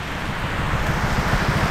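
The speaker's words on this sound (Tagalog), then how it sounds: "Grabe yung ulan. Walang patawad." Heavy rain pours down during a long cycling ride along a coastal road toward a tunnel, a dense, loud, continuous roar mixed with wind buffeting, with no talking.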